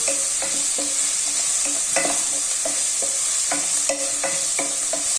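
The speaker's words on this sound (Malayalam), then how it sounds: "ഇഞ്ചി വെളുത്തുള്ളി പേസ്റ്റ് ഇട്ട് കൊടുക്കാം അതിൻ്റെ ആ ഒരു റോ ടേസ്റ്റ് ഒക്കെ പോകണ വരെ നന്നായിട്ടൊന്ന് വഴറ്റി കൊടുക്കാം ഹൈ ഫ്ലെയിമിൽ ഇട്ടിട്ട് തന്നെ വഴറ്റിക്കോളൂ" Ginger garlic paste sautéing over a high flame for instant noodles, a steady bright sizzle with repeated scraping stirs of a spatula against the pan at a brisk, uneven rhythm, close and alone.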